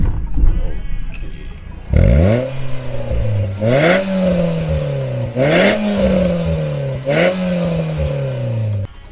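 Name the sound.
car exhaust revving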